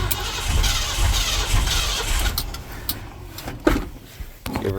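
A turbocharged 351 V8 cranks while trying to start, a loud rough churning roar that breaks into a few sharp knocks and pops as it falters, close by.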